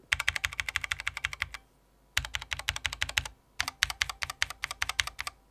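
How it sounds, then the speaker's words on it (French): Mechanical keyboard switches with resonant springs clack in fast typing bursts, three runs of dense keystrokes separated by short pauses, close and fairly loud with no talk. "Les ressorts des switches résonnent assez fort"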